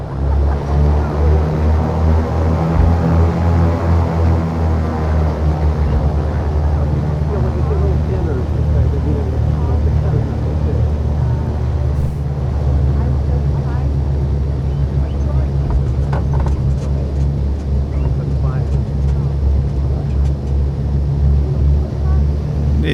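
Twin engines of a Cessna 414AW Chancellor in Microsoft Flight Simulator hum loudly and steadily through the takeoff roll at Montego Bay, Jamaica, a deep droning tone running throughout with a voice speaking over it.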